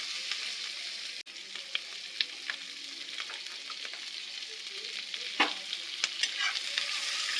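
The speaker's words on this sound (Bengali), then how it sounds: "পেঁয়াজ কুচিগুলো দিয়ে দিব, এবার নেড়ে নেব ভালো করে" Chopped onions sizzle in a pan for egg chilli while a utensil stirs them, producing a steady close frying hiss punctuated by several scraping and tapping strokes.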